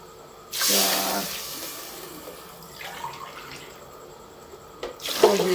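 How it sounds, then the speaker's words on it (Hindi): Water is poured from a glass into a cooking pot for goat trotter curry, with a loud splashing pour at the start and another at the end, separated by quieter clinks and kitchen handling. "और ये 5 गिलास पानी के डाल दिए।"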